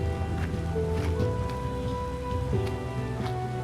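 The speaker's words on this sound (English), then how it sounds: "The rain isn't stopping." Steady rain patters in the Skyrim video game, a constant soft hiss with scattered drops under faint tonal music, continuous and moderately quiet.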